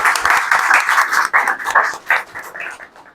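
A church congregation applauds during a praise service, a brief patter of clapping that swells and fades in uneven waves, fairly close and moderately loud.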